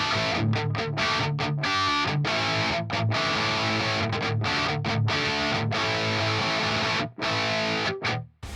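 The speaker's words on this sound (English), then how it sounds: "The lowest gain setting will be the dad rock, and that's kind of low bass, low gain, kind of like a British type crunch thing." Electric guitar played through an amp simulator on a low-gain British crunch preset, with mildly distorted chords strummed in a steady rhythm and a few brief stops. The guitar is loud and close, with no talking.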